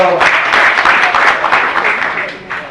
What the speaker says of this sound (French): Applaudissons fort alors